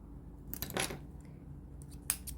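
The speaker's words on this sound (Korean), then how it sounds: "여기서 실을 한 5, 6cm 정도 남겨 두시고요. 잘라주세요." Scissors snip through crochet yarn while a summer daisy bag is being made, a couple of short, close, crisp cuts with quiet pauses between them.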